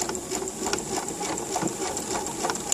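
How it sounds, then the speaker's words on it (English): A sewing machine runs a reverse stitch back and forth along a dress hem, its needle clattering in a steady fast rhythm up close, with no talk over it. "And now I'm going to do a reverse stitch and just kind of lock it in right there."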